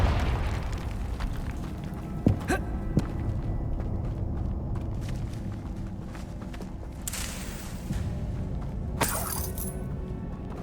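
Explosive Confringo spell blasts in Hogwarts Legacy burst with sharp booms and crackling shatters, a few distinct hits spaced over a rumbling backdrop, loud and close with scattered footsteps.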